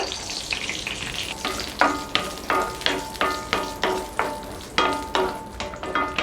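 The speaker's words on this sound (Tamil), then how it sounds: "இப்போ முந்திரி நல்லா வறுத்தாச்சு." Cashew nuts sizzling in hot ghee in a kadai, with a soft crackle throughout and a regular series of louder scraping stirs, roughly two per second, close and fairly quiet, with no talk.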